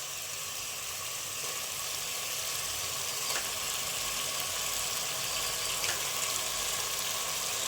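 Prawns dropped into masala frying in oil for a prawn biryani, giving a steady, even sizzle that holds at a moderate level throughout with no talking.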